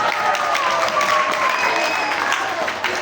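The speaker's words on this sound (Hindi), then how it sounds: "ये गलत जवाब पे आप तालियां बजा रहे हैं" Students in a Class 5 Islamiyat quiz break into a burst of lively clapping that fills the classroom and carries on steadily for a few seconds, with a voice faintly heard beneath.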